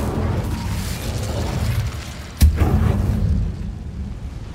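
An Incendio fire spell goes off in the Hogwarts Legacy video game: a sharp single blast and crackling burst rising out of a steady rumbling game ambience, then trailing off to a low hum.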